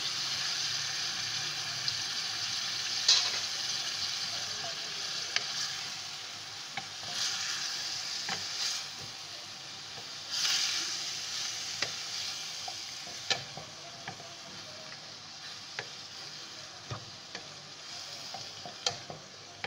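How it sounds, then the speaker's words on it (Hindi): Goat meat frying in a pot for kari khawsa, a steady sizzle running throughout with repeated scraping stirs and occasional sharp clicks of the spoon, all close and with no talking. "इसे अच्छी तरह भून लेंगे।"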